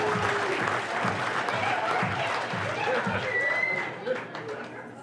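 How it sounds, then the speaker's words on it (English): Applause from a gig crowd for the staff, a broad wash of clapping under a speaking voice and crowd chatter, fading slightly toward the end. "give the staff a round of applause"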